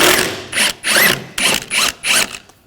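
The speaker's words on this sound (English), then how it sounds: "Using a 15mm socket, take this nut off." Ratchet wrench with a 15mm socket loosening the nut on a rear sway bar link of a 2013-2019 Ford Escape, five loud bursts of rapid clicking separated by short pauses.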